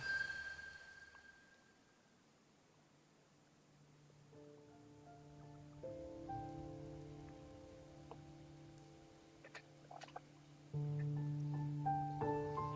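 Steady rain falling as a soft, even hiss that carries through the whole stretch, joined by gentle sustained musical tones that swell later on.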